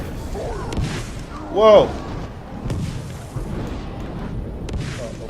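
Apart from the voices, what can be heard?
explosions in Shadow of War video game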